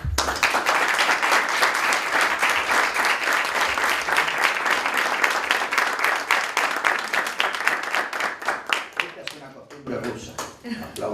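An audience applauds after a talk in a Forjad open-dialogue series, with loud, sustained clapping in a crisp rhythm that thins into scattered individual claps near the end, with voices briefly audible.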